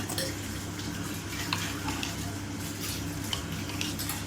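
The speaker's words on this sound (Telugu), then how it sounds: "నీళ్ళు పోసుకోవాలండి" Water poured into cooked dal for pappu chaaru, a low steady splashing and gurgle of liquid in a pot, faint and continuous with small clinks, no talk.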